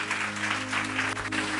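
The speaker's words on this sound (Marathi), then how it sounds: "जरा जोरदार टाळ्या प्रभूच्या गौरवासाठी." A church congregation claps loudly for a Marathi sermon, producing a dense, steady wall of applause that holds evenly throughout, with a low hum underneath.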